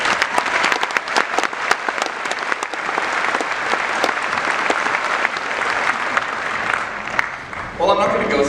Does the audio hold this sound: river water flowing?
no